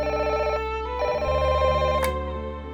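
A telephone rings with a loud, steady electronic trill that repeats in short bursts, alone with no voices.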